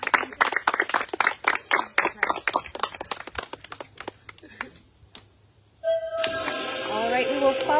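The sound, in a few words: applause for Francis at tribal council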